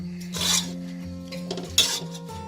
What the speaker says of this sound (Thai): ใส่ไส้ลงไปผัดเลยค่ะ เวลาเราผัดนะให้เราใช้ไฟอ่อนนะไม่งั้น เดี๋ยวเขาจะไหม้นะ